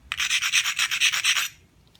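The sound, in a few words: grinding the edge of a knapped stone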